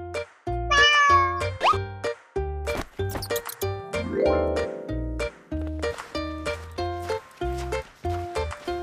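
A cartoon cat meows amid busy animated music and sound effects, a few short high mewing calls near the start over rhythmic clip-clop-like beats and playful tones.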